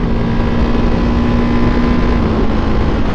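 A Ducati 698 Hypermono single-cylinder motorcycle is ridden, its engine a loud, steady droning roar with constant wind rush and no speech.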